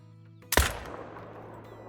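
A single loud rifle shot aimed at a buck while hunting in Call of the Wild, a sharp close crack followed by a long fading echo over a quiet backdrop.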